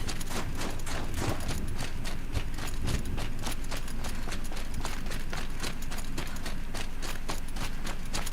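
A horse gallops in the video game Horizon Zero Dawn, with rapid, even hoofbeats drumming loudly and continuously throughout.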